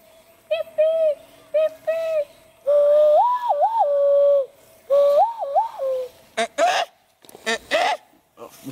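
A person whistles an imitated Bigfoot call: a series of short rising-and-falling whistled notes, some in quick wavering pairs, repeated in bursts close to the microphone with brief pauses between them.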